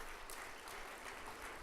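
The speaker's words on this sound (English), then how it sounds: "Please can we have a round of applause for them?" Audience applause at the Green Tourism Conference 2014 awards for winners from the Create Centre in Bristol, a dense, steady wash of many hands clapping throughout, fairly faint and distant.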